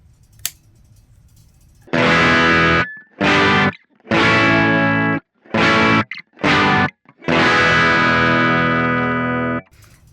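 An electric guitar through an overdrive pedal in Blues Breaker mode, with a gritty, biting tone, plays several sustained chords and short bursts separated by brief silences, loud and close.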